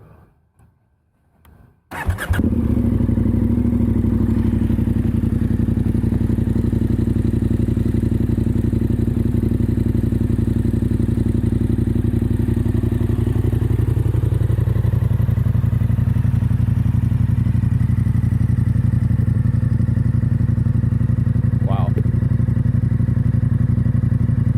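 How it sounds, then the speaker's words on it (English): A KTM 1290 Super Adventure S motorcycle engine starts after a short quiet moment, then idles loudly and steadily for the remainder, a deep continuous rumble close by. "How about we turn the motor on?"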